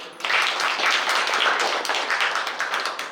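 Audience applause at a national ballet and dance drama festival, a thick, continuous round of clapping from many hands that rises suddenly and carries on steadily to the end.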